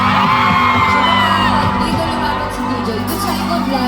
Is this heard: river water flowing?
no